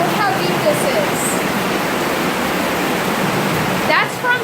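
Hurricane rainwater pours steadily through foam into catch bins, a loud continuous rushing wash close by with a brief louder surge near the end.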